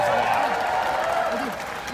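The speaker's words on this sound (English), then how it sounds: "I want to hear applause for that." A seminar audience applauds, a dense continuous wash of clapping and crowd noise filling the room, loud and steady throughout with a voice faintly mixed in underneath.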